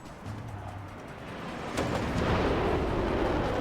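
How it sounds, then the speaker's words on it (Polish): A video game explosion in Lego Ninjago, set in the north of Ninjago City: a broad roaring burst that swells suddenly and then rumbles on steadily, fairly soft and with no voices over it. "Coś tu wybuchło."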